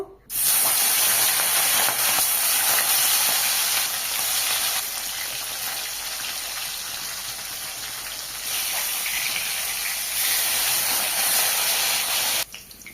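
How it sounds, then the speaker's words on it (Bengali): Rohu fish pieces fry in hot mustard oil in a wok, giving a loud, steady, hissing sizzle that stays strong for about thirteen seconds and eases slightly midway, with no voices over it. "তেল গরম হয়ে গেছে, মাছ দিয়ে দেবো।"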